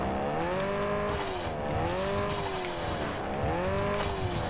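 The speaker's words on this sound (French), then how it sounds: "Elle glisse la voiture. Hein. Elle glisse beaucoup." In Cyberpunk 2077, a car skids and slides with long wavering tire squeals that swoop up and down in repeated arcs over a constant engine drone, moderately loud with no talking.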